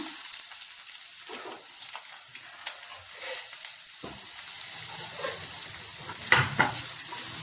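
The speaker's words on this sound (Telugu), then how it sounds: "2 స్పూన్ల నూనె వేసుకొని ఉల్లిపాయ ముక్కలు అందులో వేసుకుందాం." Chopped onions frying in two spoons of oil for an onion egg curry, a continuous close sizzle with intermittent spoon scrapes and stirring.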